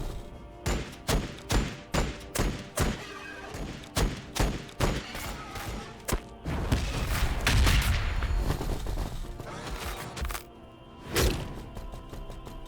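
Repeated grenade blasts and gunfire in a Warhammer Battlesector battle against Tyranid Hive Guard, a rapid string of sharp loud bursts giving way to a dense rumbling barrage, then a final heavy boom.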